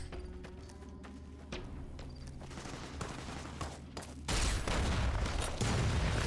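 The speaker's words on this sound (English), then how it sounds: "They're throwing grenades!" Grenades exploding in a Fallout: New Vegas firefight, scattered gunshots and thuds building to a loud, dense burst of blasts near the end.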